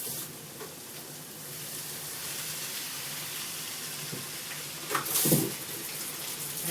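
Running tap water rinsing ingredients for a Filipino ginisa, a steady hiss of flowing water with a brief louder splash near the end, close and without talk.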